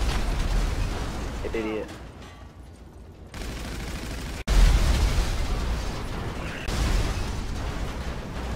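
Rocket blasts in a video game thump through a constant roar of rumbling noise, with a sharp loud hit midway and a brief voice speaking over the din.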